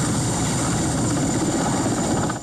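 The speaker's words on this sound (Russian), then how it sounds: "Экипаж нового вертолета Ми-8 АМТ прибыл в Нарьян-Мар." A Mi-8 AMT helicopter at Naryan-Mar airport roars loudly and steadily up close, its rotor and turbine noise filling the whole stretch with a dense, continuous drone.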